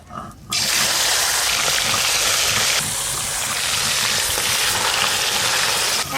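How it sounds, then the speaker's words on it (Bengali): Hilsa fish pieces rubbed with salt and turmeric hit hot oil and sizzle loudly and steadily, a dense, close frying hiss that carries on without pause. "লবণ হলুদ মাখানো মাছগুলো হালকা করে ভেজে নেব।"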